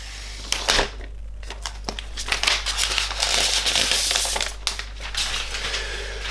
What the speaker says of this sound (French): Et le voici donc avec un petit film en papier. C'est plus du plastique, c'est du papier recyclé.